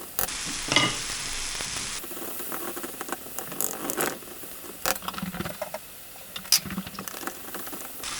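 Chakchouka seasoned with cumin, paprika and pepper frying in a pan while being stirred, a steady close sizzle broken by scraping utensil strokes and small clinks, with no voices.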